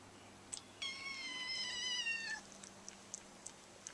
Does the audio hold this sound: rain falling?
no